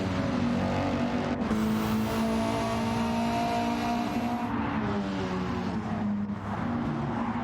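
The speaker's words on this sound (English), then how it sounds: "He's burning some rubber there" A rallycross car in a Group B and Group 4 race at Sardegna spins its wheels, a loud close engine holding a strained drone with tyre squeal and roughness throughout, pitch wavering as it revs.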